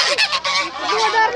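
Repeated loud goose honks at Zoobic Safari, harsh and nasal, several calls in quick succession close by with no talking.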